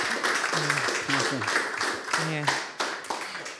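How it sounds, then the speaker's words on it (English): A round of applause for Fabio at the close of his talk in a webinar, several scattered claps heard alongside a voice speaking over them, moderately close. "I think Fabio deserves a round of applause."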